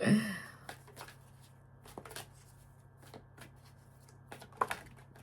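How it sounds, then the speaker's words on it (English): Tarot cards riffle and tap in short irregular bursts, near and fairly quiet, with a few sharper snaps toward the end. "I'm having a little issue with shuffling."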